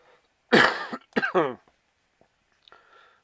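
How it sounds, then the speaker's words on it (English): A harsh, close cough followed by a second shorter coughing burst, then near silence with a faint rustle. "Can't wait to shift this cough."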